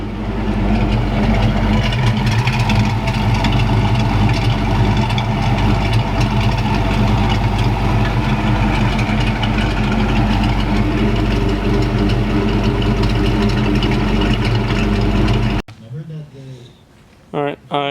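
A Ford Mustang SN95 idles steadily as it warms up, a loud, close, continuous low engine drone lasting about fifteen seconds before cutting off, followed by brief quiet handling noises.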